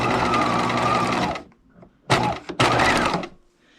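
A sewing machine stitches the top seam of a stretchy Barbie doll top, a close, busy whirring run that stops briefly, then two more short bursts of stitching follow, with no talking.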